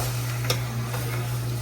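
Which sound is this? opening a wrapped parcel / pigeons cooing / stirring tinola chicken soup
stirring tinola chicken soup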